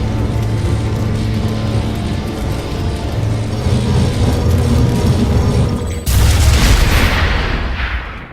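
A power generator explodes in the online shooter PlanetSide 2: steady mechanical rumble gives way to a sudden loud, broadband blast with a crackling, fading tail over the final seconds.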